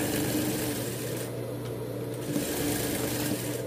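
A sewing machine makes fine stitching around the curves of a dog's Christmas bandana collar, a close, continuous whirring hum throughout the short stretch.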